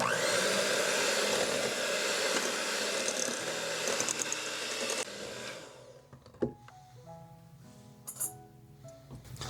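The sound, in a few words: electric mixer beating eggs on medium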